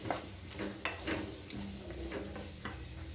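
Potatoes and eggplant stir-fried on high flame in a pan, giving a steady close sizzle broken by several scraping stirs and clinks of a spoon against the pot.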